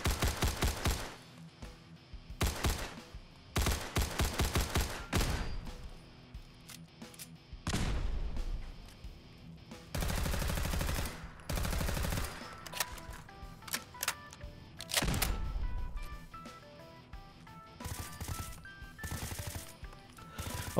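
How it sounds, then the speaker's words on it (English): PDW firearm shots in Fallout 4, fired in semi-automatic single shots and automatic bursts: loud, close cracks arriving in clustered volleys with short pauses between, over faint game background music. "Now right here I will be firing the PDW. I will be using the semi-automatic version, an automatic version, and a tricked out PDW."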